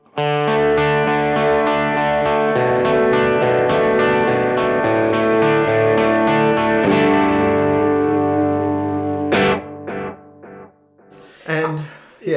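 Electric guitar played through a Kemper profile with a chorus tone, bright and moderately overdriven, sustained chords ringing loud and steady for about nine seconds before choppier, broken-up phrases.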